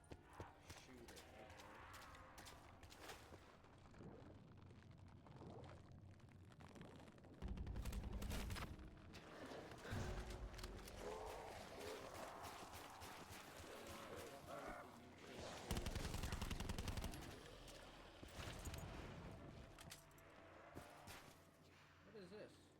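Gunfire in Call of Duty Black Ops 4, Tag der Toten mode, with bursts of rapid shots mixed with horse hoofbeats and game sounds, under occasional talk.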